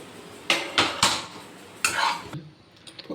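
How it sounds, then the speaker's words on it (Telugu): Fried curry leaves scraped from a pan onto a plate for homemade curry-leaf chili powder: a few sharp metallic clinks and scrapes of a spoon against cookware, close and distinct, with quiet pauses between. "ఇలా ప్లేట్లోకి ట్రాన్స్ఫర్ చేసుకోవాలి"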